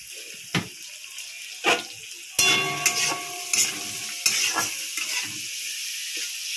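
Boiled chowmein with potato, onion and chili fried in a pan, a hissing sizzle with several loud scraping and clanking spatula strokes, sharp bursts flaring up as it is stirred, no speech.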